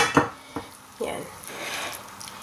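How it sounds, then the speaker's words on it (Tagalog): Cooked yema is scraped from a pan onto a prepared plate, a few clanks and scraping strokes of a utensil against cookware followed by soft sticky dragging. "Isalin lang natin yung ating yemang naluto."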